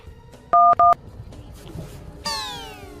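Telephone keypad dialing tones from a TV crime drama scene: two short, loud beeps close together, followed by a falling electronic sweep, with a faint background bed and no talk.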